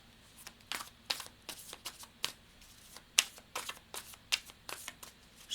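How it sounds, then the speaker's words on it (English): Oracle cards being shuffled by hand, a quick irregular run of soft papery riffles and slaps, close and quiet with no talking. "Shuffle these cards up a little bit more"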